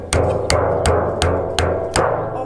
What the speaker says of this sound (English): I use the hammer